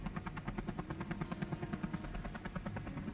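In the video game Space Engineers, a helicopter's rotor thumps in a steady, fast rhythm with a low droning hum, fairly faint and with no one talking over it.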